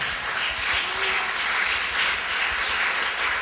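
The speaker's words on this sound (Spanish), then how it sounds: "Denle un aplauso a papá" A church congregation applauds a father, giving a dense, steady wash of many hands clapping at once, sustained and fairly loud for a few seconds.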